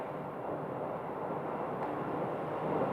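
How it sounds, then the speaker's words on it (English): A Delta airliner departing runway 26 at Phoenix Sky Harbor, a steady broad jet roar that swells slightly, heard at a distance and without speech. "Delta flight is departing for Salt Lake City"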